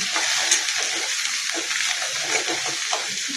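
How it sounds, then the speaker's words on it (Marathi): Coriander fries in hot oil with a steady, bright crackling sizzle, close and even throughout with small bursts of spitting. "छान तळून घ्यायचं"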